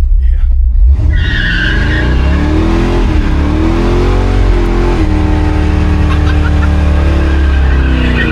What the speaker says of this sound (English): You can see the wheel hopping.